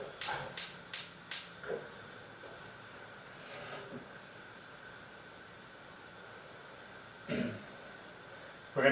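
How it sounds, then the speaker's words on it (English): Gas stove burner clicking on for simmering soaked Chinese herbal medicine: a rapid series of four sharp ignition clicks, then a quiet hiss of flame, with a few faint knocks later. "we're going to put the gas on"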